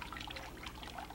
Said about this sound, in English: And I just love having water. I love the sound of it.